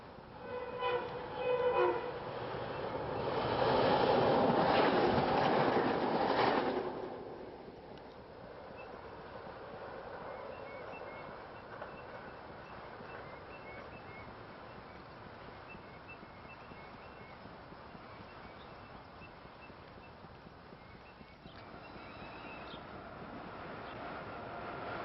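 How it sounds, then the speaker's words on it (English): A SEPTA R5 express train of Silverliner II cars passes, a loud rushing rumble peaking early and fading into a steady distant roll of wheels on track. "This is an R5 train."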